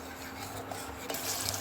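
A cream mixture of papaya peel and carrot is roasted in a pan and stirred, giving a steady faint scraping and soft frying hiss at close range with no talk.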